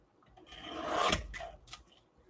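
Scissors cut through a paper envelope to make a pocket for a journal cover, a close, soft snipping and rasping sound that swells and fades over about two seconds.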